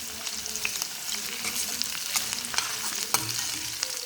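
Onions frying with ginger garlic paste for a potato curry are stirred in a pan, a steady sizzle with irregular scraping strokes and a sharper clack near the end.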